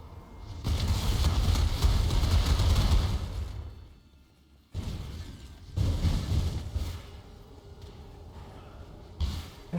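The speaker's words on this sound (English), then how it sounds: "Is this corpse still spawning explosions" Corpse explosions in the action role-playing game Path of Exile, a heavy rumbling burst lasting a few seconds, a pause, then a second rolling blast and a sharp pop at the end, loud and dense.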